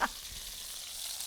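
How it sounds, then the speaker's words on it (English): Fish sears in a hot pan with a steady hissing sizzle, close and even throughout the short stretch. "So you want it pretty hot when you put it in so it sizzles."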